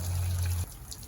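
Water runs through the pump of an International fire truck with a Detroit Diesel engine and a stuck pump: a steady loud rushing flow with a low hum that cuts off partway, leaving a softer trickle.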